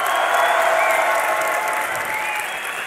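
A large crowd in an esports hall at a League of Legends DreamHack semi-final applauds and cheers continuously, a dense, loud, steady wash of clapping with a few whistles rising above it.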